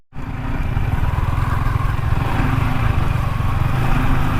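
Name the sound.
motorcycle riding on a village road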